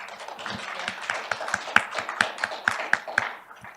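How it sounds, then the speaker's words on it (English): Small audience applause at a community presentation about improving Englewood's drinking water: a brief burst of scattered, fairly close hand claps in an uneven rhythm, trailing off after a few seconds. "can we give her a round of applause, please?"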